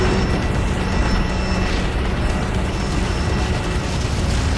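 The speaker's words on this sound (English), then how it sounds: "this constant avalanche and explosions really messing things up" A constant avalanche with explosions in the racing video game Need for Speed The Run: a dense, steady roar of rumbling noise and booms that stays loud and unbroken throughout, with no distinct pauses.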